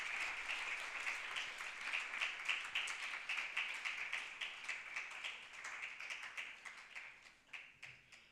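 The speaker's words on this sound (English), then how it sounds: "Round of applause." An audience at a campaign launch event gives a round of applause for a panelist, steady dense clapping throughout, fading slightly toward the end.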